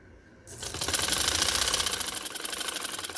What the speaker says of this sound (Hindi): मैं एक ही सिलाई से लगा रही हूँ